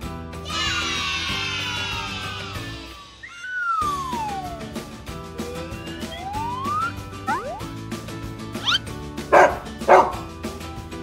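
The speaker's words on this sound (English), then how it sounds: "It's a dog!" A dog barks twice in quick succession near the end, sharp and fairly loud over playful background music with sliding cartoon sound effects, part of a children's animal-guessing game.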